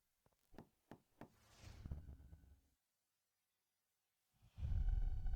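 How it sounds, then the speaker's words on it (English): Knocking on an apartment door by a police officer posing as a water company worker, a few sharp raps near the start, then a rumbling stretch, silence, and a loud low burst at the end. "I'll knock on the door."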